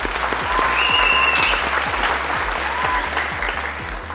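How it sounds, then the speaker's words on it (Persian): A studio audience on a Persian-language Family Feud game show breaks into loud, close applause, a thick continuous clapping with a faint electronic tone or jingle briefly sounding over it. "تشویق کنید"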